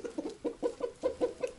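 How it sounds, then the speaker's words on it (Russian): A young rooster clucks close by, about eight short throaty clucks in a quick, fairly even rhythm, with no talking over them. "Вот такой вот молоденький петушок."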